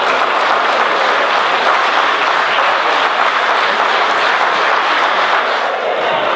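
A large crowd at a rally event in Cerdans applauds a board of volunteer organisers, a dense, steady wash of clapping held at full strength throughout with faint voices mixed in.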